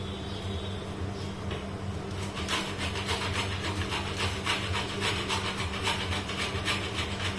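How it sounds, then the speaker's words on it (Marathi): Fresh coconut being grated by hand for a dry fruit barfi, a soft rapid scraping rasp in quick repeated strokes, close and moderately quiet over a steady low hum. "इथे आपण खोबरं किसून घेतोय।"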